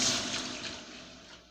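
Water poured into a cooking pan while making sotanghon guisado, a steady close splashing and trickling rush that tapers off slightly by the end, with no talking.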